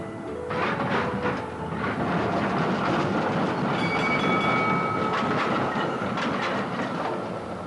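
A tram runs on its rails with a steady, loud rumble and rhythmic clickety-clack, plus a brief high metallic wheel squeal midway through.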